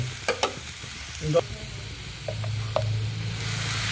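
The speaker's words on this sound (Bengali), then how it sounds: "এবার এটাতে আমি দিয়ে দেবো সামান্য করে জল" Dry red chillies roasted in a hot pan sizzle steadily as a little water is added, with a few stirring scrapes and clinks early on and the hiss rising toward the end.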